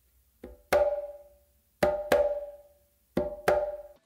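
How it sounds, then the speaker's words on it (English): Quinto conga played with the non-dominant hand, a soft ghost open slap followed by a sharp open slap, repeated three times, close and dry. "So it's gonna be like a ghost open slap and then an open slap"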